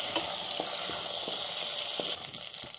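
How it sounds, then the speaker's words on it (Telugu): Curry leaves dropped into hot oil tempering with fenugreek seeds and garlic cloves for coriander rasam, producing a loud continuous sizzle with scattered small pops and crackles that eases slightly toward the end. "ఇందులో కరివేపాకు వేసుకోండి।"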